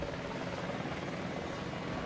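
American helicopter flying in the video game Battlefield Vietnam, a continuous whirring rotor drone held at steady level throughout, with no talk over it.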